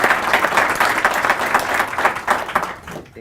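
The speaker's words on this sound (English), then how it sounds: "how about a round of applause first for Sarah?" An audience at a leadership talk claps to welcome a speaker, a loud, close burst of many hands applauding that carries steadily for about three seconds before cutting off.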